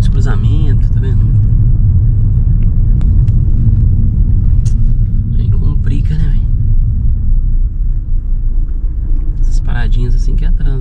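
Inside a car moving through city traffic, a low steady engine and road rumble fills the cabin while a person talks over it almost continuously.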